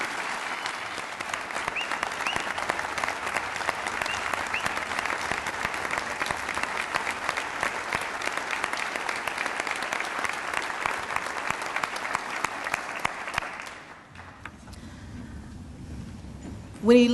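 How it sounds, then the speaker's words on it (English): An awards ceremony audience gives a long, sustained round of applause for a man being thanked for his service, dense even clapping from many people that continues strongly before cutting off into quieter room sound. "if we could just give him a round of applause to thank him for his service"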